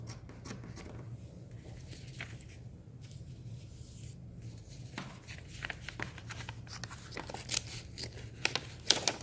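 Irregular snipping and rustling as scissors cut through material for a custom mascot head, close up, growing busier toward the end.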